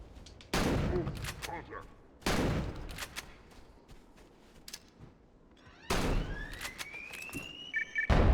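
Shotgun fire in Halo: Combat Evolved, three loud separate blasts spaced a second or more apart, each with a short rattling tail, over quiet game ambience.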